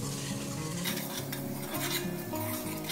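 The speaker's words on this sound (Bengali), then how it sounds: "কেওড়া ওয়াটার 1 চামচ দেবো। আবার এটা একটু নেড়ে নেব।" Egg biryani with a spoon of kewra water being stirred in a pot, with soft scraping and clinking of a utensil against metal over a low, steady sizzle, close by and continuous.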